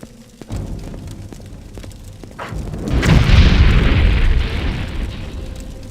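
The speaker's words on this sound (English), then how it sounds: "Fire Bloom, 12 points of damage." A Fire Bloom spell explodes in the Morrowind video game with a deep, rumbling boom that swells after a short burst and holds loudly for several seconds, roaring on without any talk.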